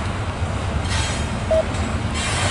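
CSX ES44AH diesel locomotive number 870 rolling past with its train, a steady rumble of engine and rail cars with a brief high squeal partway through.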